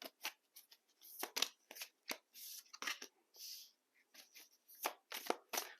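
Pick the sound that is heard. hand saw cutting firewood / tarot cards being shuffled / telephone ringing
tarot cards being shuffled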